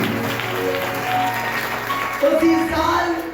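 A church congregation gives a short burst of clapping during a Hindi-language sermon, a scattered patter of hands with a voice running over it.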